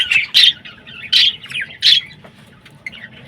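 Budgerigars in a breeding colony give three sharp, loud squawks in quick succession, followed by softer chirps, close to the microphone over a quiet background.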